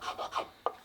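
A maple sanding block rubs across wood during restoration of a double shotgun, giving three quick close rasping strokes and then a sharper short scrape.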